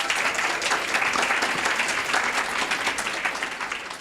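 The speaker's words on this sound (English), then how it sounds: "Let's give a big round of applause to Scott." An audience at a keynote speech at ATLAS Corp. applauds for Scott, dense steady clapping filling the room, loud and continuous throughout.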